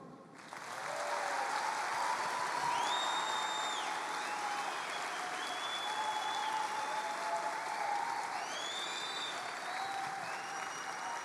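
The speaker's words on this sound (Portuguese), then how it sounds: "você pode aplaudir" A crowd at a business event in Petrolina, Brazil, claps steadily for about ten seconds, sustained applause starting abruptly and holding at an even level, with a few whistles riding on top.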